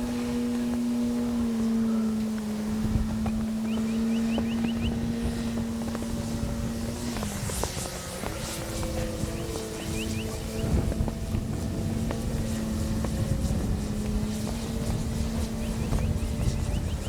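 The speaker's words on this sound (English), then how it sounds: "and that wind's kicking up again." Gusty wind outdoors at an RC flying field, roaring and buffeting the microphone throughout, mixed with the steady drone of a 20cc gas-powered Hangar 9 Valiant model airplane engine that holds a constant pitch.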